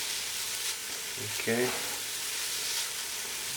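Vegan beef crumbles sizzle steadily with onions in a hot pan, a soft continuous frying hiss close by, with a brief stirring scrape and a short spoken word partway through.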